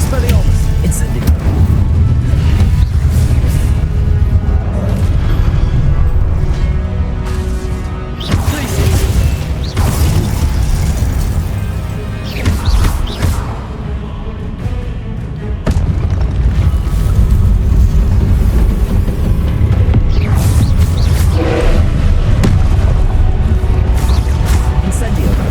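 Spell blasts such as Incendio and Expelliarmus cast in a Harry Potter video game: heavy, booming impacts and rumbling bursts pile up continuously at high volume, with a voice speaking throughout.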